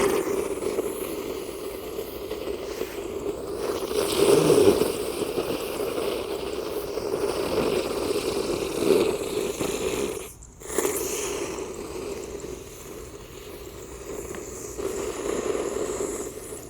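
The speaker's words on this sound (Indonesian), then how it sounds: "Yang pertama di sini ada gangsingan atau roda gila yang kita masukkan di lubang tanah guys." A spinning ground firework, a gangsing or flywheel, burns inside a hole in the ground with a steady loud roaring hiss that swells briefly midway, dips into a short pause, then carries on.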